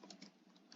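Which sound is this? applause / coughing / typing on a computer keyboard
typing on a computer keyboard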